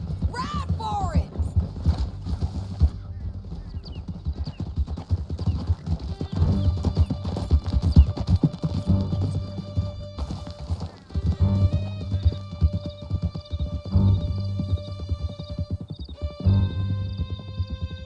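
Horses gallop in Red Dead Redemption 2, with steady, loud clip-clop hoofbeats and an occasional whinny over a low musical hum, while voices talk over the riding.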